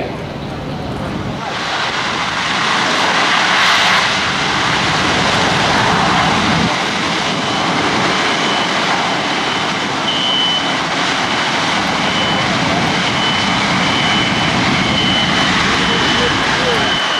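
A Boeing C-17 Globemaster III's jet engines roar loud and steady at an airshow after touchdown, a broad continuous rumble that holds for the whole stretch, with a faint voice under it.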